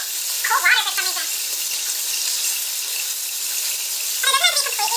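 Tap water runs in a steady hiss as a tie-dyed shirt is rinsed under it, continuous and fairly close, with a person talking briefly over it at the start and end.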